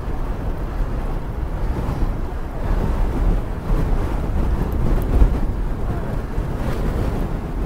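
Steady heavy wind roaring across the microphone of a road cyclist riding uphill into a headwind, a constant loud low buffeting with no voices.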